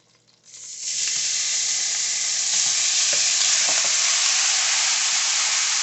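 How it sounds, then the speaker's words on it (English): Meat dropped into a hot pan for chili bursts into a loud, bright hiss after a quiet moment, then settles into a steady close-up frying sizzle with a few faint clinks. "at this point, go ahead and add your meat"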